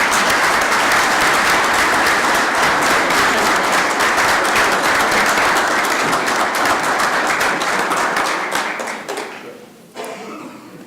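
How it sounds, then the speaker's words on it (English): Loud, sustained applause from a crowd at a city council meeting in Columbus, Georgia, steady for about nine seconds before thinning out and fading near the end. "So please give them a round of applause one more time."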